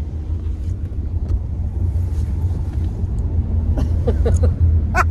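A car engine rumbles low and steady nearby, with a few short clicks and brief sounds near the end.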